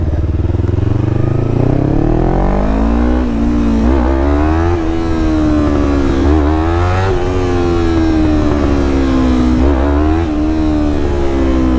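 A Yamaha R3 motorcycle engine revs hard and high, rising and falling in repeated surges as the rider rolls off and pins the throttle while lifting the front wheel for a wheelie, loud and close throughout.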